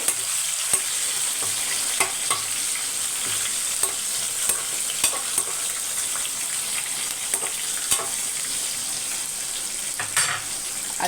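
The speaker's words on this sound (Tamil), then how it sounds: "இதுக்கு பச்சை மிளகாய் நல்லா வதங்கணும் அப்போ தான் அந்த ஃப்ளேவர் வந்து நல்லாயிருக்கும் கிச்சடிக்கு" Green chilies sauté in a hot pan for kitchari, giving a steady frying sizzle broken by regular scraping clicks as a spoon stirs them.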